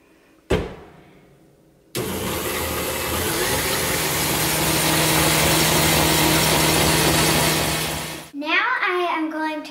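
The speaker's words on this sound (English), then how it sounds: "I'm going to whisk the egg whites." A stand mixer whisks egg whites with cream of tartar for a sponge cake, a loud, steady whirring hum that starts abruptly and runs for about six seconds before stopping, after a sharp knock and followed by brief talk.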